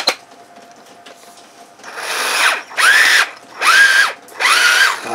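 An old NiCd cordless drill, more than twenty years old, runs in a torque test: a brief spin-up, then three loud whirring bursts with short pauses between them. The motor pitch sags under load in each burst.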